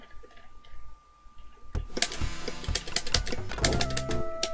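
Clacky arcade controls on a 1980s-era SEGA arcade cabinet: after a quiet start, a rapid, busy run of sharp plastic clicks and taps, close and loud, mixed with game sounds.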